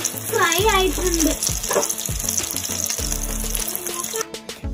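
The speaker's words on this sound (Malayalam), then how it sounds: "നമ്മുടെ സാൽമൺ നല്ലോണം ഫ്രൈ ആയിട്ടുണ്ട്." Salmon fries in a pan with a steady sizzle beneath prominent background music, and a few clatters near the end.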